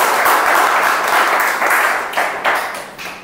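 Audience applause at a personal-development meeting fills the room with dense, steady clapping from many hands, loud and sustained, tapering slightly toward the end.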